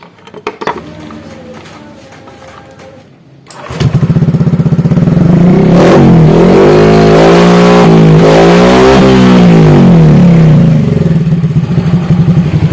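A motorcycle engine, mounted for an unloaded speed test, idles roughly at first and then revs up hard into a loud, sustained high-rpm roar that rises and falls slightly in pitch.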